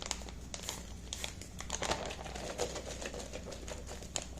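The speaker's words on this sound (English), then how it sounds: "seal it up with the zipper" Crinkly plastic rustles and crackles up close as a Readywise chili mac zipper food pouch is pressed shut after adding hot water, with small snaps and scratches scattered through.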